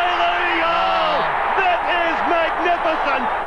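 A large rugby league crowd at Lang Park, Brisbane, roars during a State of Origin match, a broad sustained din with a commentator talking over it.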